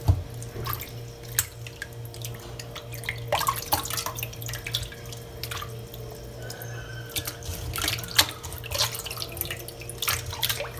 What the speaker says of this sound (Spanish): Le boto el agua